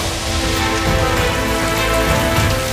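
Steady, dense rainfall hisses and patters on a surface, continuous and fairly loud throughout with no voices.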